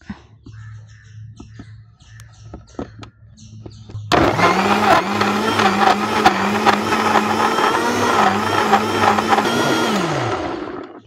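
A kitchen mixer grinder blending raw mango with ginger, salt and water starts after a few quiet clicks and handling sounds, then whirs loudly and steadily for several seconds before winding down.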